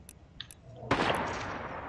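Gunfire from a marksman rifle in Fortnite Creative: one sharp shot lands abruptly, then a loud, dense burst of noise sustains and slowly fades, with a few faint clicks and pickup sounds before it.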